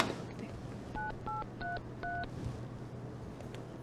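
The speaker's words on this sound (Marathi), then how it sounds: "आत्ता तुम्हालाच फोन लावत होते" A telephone keypad is dialed, producing four short, evenly spaced touch-tone beeps, fairly quiet over a low steady indoor hum.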